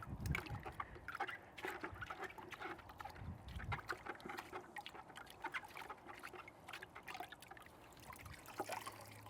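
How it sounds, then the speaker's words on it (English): Water runs and trickles while a dirty filter from a 125-gallon aquascape aquarium is rinsed, a steady close splashing with irregular drips and sloshes throughout. "So I'm just going to go ahead and rinse this off."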